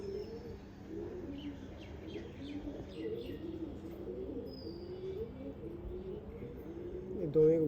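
Pigeons kept for sale coo in low, rolling phrases that repeat steadily throughout, fairly close, with a soft background hum.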